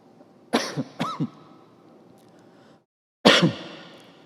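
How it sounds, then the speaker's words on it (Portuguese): Three bursts of harsh coughing close by, the first two coming in quick double hacks, separated by a short silent pause. "Eu peço desculpas, eu estou com uma tossinha"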